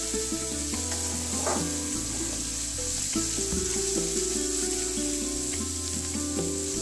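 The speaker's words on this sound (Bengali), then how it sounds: "চালটা দেওয়ার পর একটু ভালো করে ভাজা ভাজা করে নিতে হবে।" Soaked basmati rice frying in a pan for Kashmiri pulao, a loud continuous sizzle with scraping and stirring of a utensil throughout, no talk.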